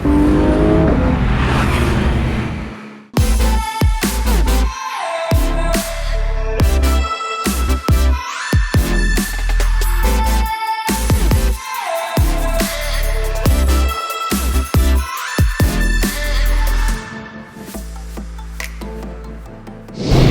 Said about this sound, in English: let's go for a little drive in this Defender